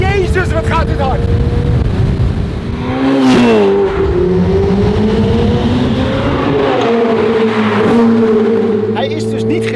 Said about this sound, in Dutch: Maar dan kun je in ieder geval vol naar 8000 toeren.